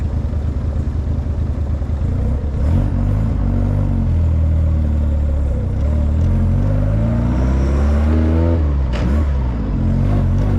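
A vintage MG PB car engine with a non-synchromesh gearbox runs close by, revving up and down with rising and falling pitch as it accelerates and shifts, with some mechanical clatter.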